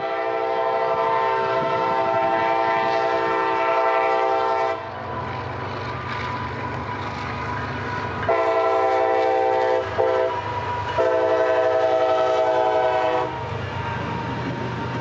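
CSX freight train M520 passes at Canute, its horn sounding loud and close in long sustained blasts broken by short gaps, over a steady rumble of rolling railcars.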